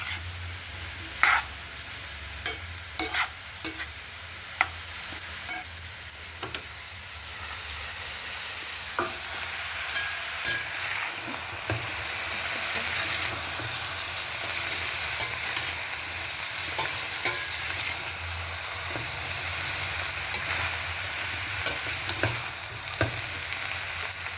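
Food sizzling and frying steadily in a pan, with occasional sharp clicks and scrapes of stirring, no voices.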